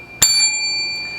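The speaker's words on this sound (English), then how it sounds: "hit that bell so you too can be notified next time I upload another delicious recipe" A notification bell dings once with a bright, sharp strike, then its clear metallic tones ring on and slowly fade, close and fairly loud, with no talking.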